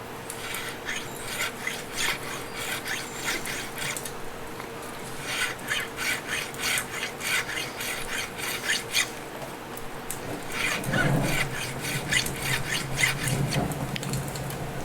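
Fret crowning on a Rickenbacker 12-string guitar: a file rasps in quick repeated back-and-forth strokes, close and fairly loud, pausing briefly between bursts as the work moves along the neck.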